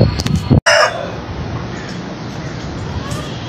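A hen clucks close by, mixed with crowing-like calls over steady background noise and a brief dropout near the start.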